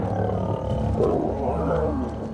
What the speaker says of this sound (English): was roars and the most terrifying sounds.